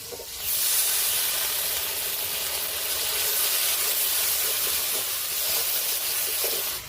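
Water poured over chopped tomatoes in a hot pan sets off a sudden loud hiss of steam that stays strong and even for several seconds before ending abruptly, with no talking.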